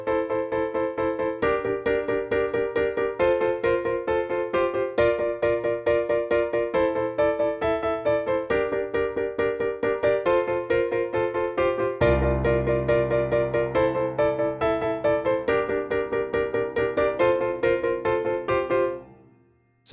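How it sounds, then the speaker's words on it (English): A piano plays the driving main riff of a rock song, originally an organ part, in steady repeated chords with a deep bass note joining partway through, clear and alone. "So it's this really cool driving organ riff."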